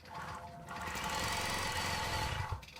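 An embroidery machine stitching out a small flower design, a fast, steady mechanical rattle of rapid needle strokes, close and continuous, running without talk until it briefly eases near the end.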